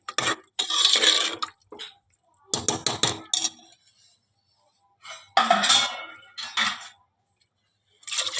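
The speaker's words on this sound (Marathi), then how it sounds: "पाणी टाकते जरा ग्रेव्ही ठेवायची" Water poured into mutton masala in a cooking pot to make gravy, heard as several loud, splashy bursts separated by short silent pauses.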